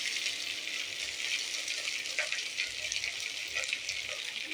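Spices tipped into potatoes and taro frying in oil, a steady bright sizzle with small crackles and pops throughout, fairly close.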